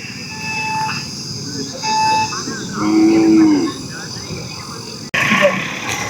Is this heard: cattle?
yes